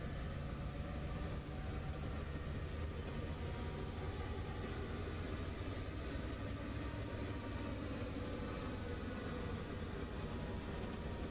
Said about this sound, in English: So then this will be the rocket coal train.